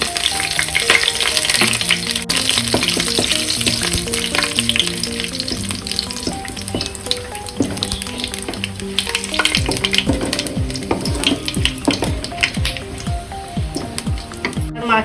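Bay leaf, dried chillies, garam masala, cardamom, cloves and cumin fry in hot oil with a dense, close sizzle and crackle, punctuated by stirring clinks against the pan.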